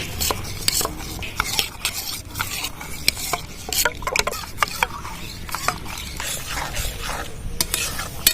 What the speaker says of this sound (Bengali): এবার গুলিয়ে নেব দুধের মধ্যে ভালো করে গুটি ভাগ যাতে না থাকে